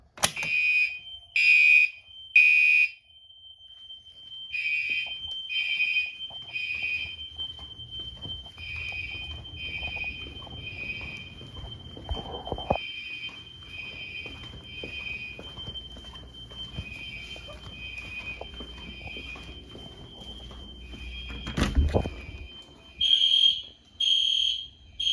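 A fire alarm in a security system under test sounds loud repeated electronic beeps in regular groups, pausing in the middle while faint handling noise continues, then resuming near the end.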